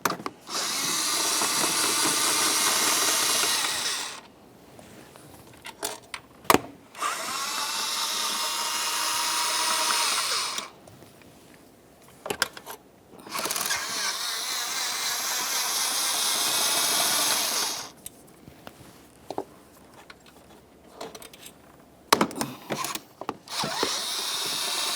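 A power tool whirs in long loud runs as it backs out the 8mm throttle body mounting bolts on a 2012-2018 Nissan Altima 2.5L, with short clanks and quiet gaps between the bursts.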